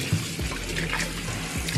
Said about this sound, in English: Just gonna rinse it off again. One more final rinse.